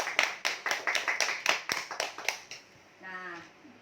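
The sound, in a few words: classroom applause for students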